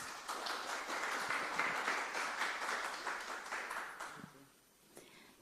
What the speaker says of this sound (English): please welcome Ms. O'Connor with a warm applause